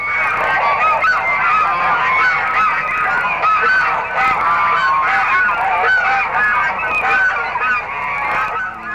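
Canada geese honking loudly and continuously as a dense flock, many overlapping calls close by with no talking.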